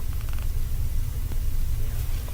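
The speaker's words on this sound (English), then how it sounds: "This is my kitty cat, Liberty." A young kitten purring close up, a steady low rumbling drone that runs through the whole moment with faint background hiss and no talk.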